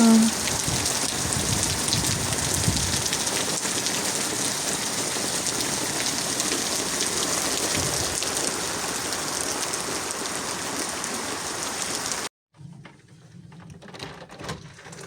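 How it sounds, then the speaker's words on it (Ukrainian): Steady, heavy rain patters and hisses on surfaces for a long stretch, then cuts to a much quieter scene with faint drips. "Люблю слухати дощ як і на дворі, так і через вікно."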